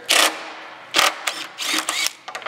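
A ratchet wrench removes bolts on a Honda Civic, giving bursts of fast, close clicking, some longer and some short, separated by brief pauses with no talking.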